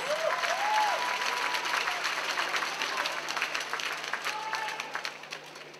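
A crowd at a Belgian sporting event claps loudly for a Bulgarian competitor being introduced. The applause is sustained and dense, and an announcer's voice carries over it.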